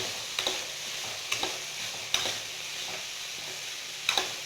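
Masala sundal being stirred together with fresh coriander leaves, a few soft scraping stirs spaced about a second apart over a low, steady background hiss.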